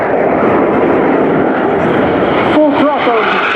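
Frecce Tricolori MB339 jets roar at full throttle during an air display, a loud continuous engine rumble with a commentator talking over it throughout.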